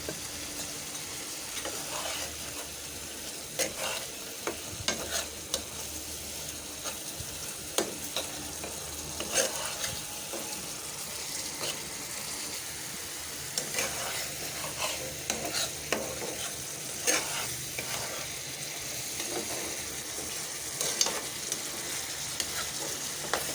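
Fried eggplant stirred into cooked masala in a pan: a soft continuous sizzle broken by frequent scraping spoon strokes and light clinks, close and fairly quiet, with no talking.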